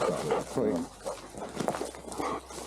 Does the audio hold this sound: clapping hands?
no